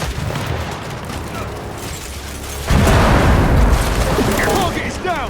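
A frag grenade in the video game Gears 5 goes off with a loud, close, rumbling blast that sustains for a couple of seconds amid gunfire, preceded by shouted combat voices.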